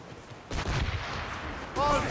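Ship cannons firing in Assassin's Creed Rogue during a naval battle: a dense, booming volley bursts in around half a second and rumbles on, with a second surge near the end under shouted crew voices.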